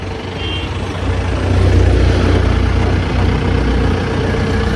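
A truck pulls away in a continuous loud, low engine rumble that swells near the middle and holds steady without fading much, no voices over it.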